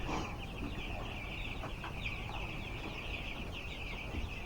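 Chickens clucking on a farm at a steady, moderate level, with a continuous wash of bird calls and barnyard noise and no voices.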